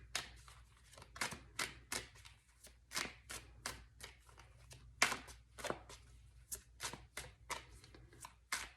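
Tarot cards are shuffled by hand in a quiet room: a close, brisk series of crisp riffling and slapping bursts in an irregular rhythm, with no talking.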